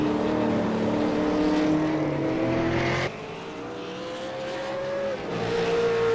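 V8 Supercar at Summit Point in a racing video game, engine droning loud and steady through a flying lap, pitch climbing and dropping with gear changes and one abrupt shift partway through.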